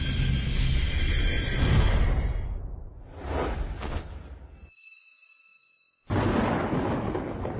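Thunder rolls through a dramatic fight against lightning, heavy broadband rumbles and whooshing crashes, then a sudden gap of near silence broken by a high whine before the loud roar returns.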